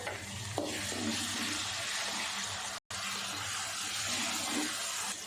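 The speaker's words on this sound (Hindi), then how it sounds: "अब इसमें डाल देंगे अदरक और लहसुन। ये 1 बड़ा चम्मच है।" A spoonful of ginger and garlic sizzles in a pan with lightly browned onions for keema bhindi, a steady loud frying crackle with faint stirring scrapes and one brief dropout.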